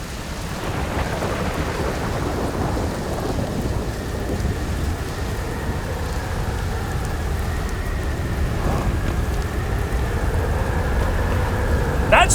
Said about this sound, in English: That storm is getting closer.